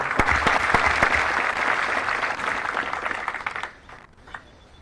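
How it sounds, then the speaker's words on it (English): Audience applause at a military Advanced Camp graduation ceremony, a dense, loud burst of many hands clapping that holds steady for several seconds, then thins and fades toward the end. "Round of applause."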